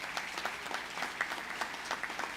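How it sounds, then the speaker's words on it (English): Brief applause for Lieutenant Governor Antonio Delgado at a state police academy graduation, a soft, moderately distant patter of many hands clapping that lasts only a couple of seconds. "Let's give him a round of applause"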